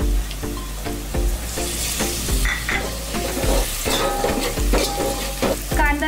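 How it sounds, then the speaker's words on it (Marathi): Ginger-garlic paste roasting in hot oil tempering with turmeric and coriander for a chicken dish, loud continuous sizzling with rhythmic scraping and stirring knocks of a spoon against the pot. "आलं लसूणची पेस्ट आपण थोडा वेळ भाजून घेऊया।"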